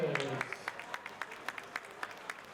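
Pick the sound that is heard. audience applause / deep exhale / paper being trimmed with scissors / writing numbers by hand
audience applause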